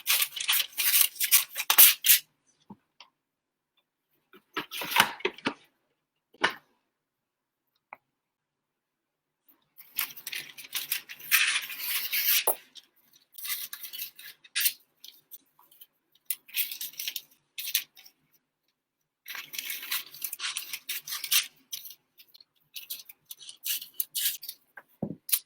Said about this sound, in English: cut multiple small pieces of wax paper